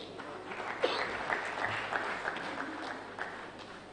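Audience applause at an academic award ceremony honoring a distinguished fellowship winner, a steady wash of clapping from a crowd with a few sharper claps standing out, moderately loud and continuous throughout.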